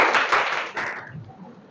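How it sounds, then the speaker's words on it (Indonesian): A class of students claps in a short burst of applause, dense at first and then thinning out quickly into scattered claps before fading. "Ya, tepuk tangan."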